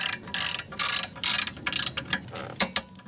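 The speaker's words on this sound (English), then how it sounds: "So we are going to torque them to 65 Newton meter." Torque wrench on an 18mm socket tightening a bolt on a Range Rover 3.6 TDV8 parking brake job, a close series of quick ratcheting clicks in short bursts with brief pauses between strokes.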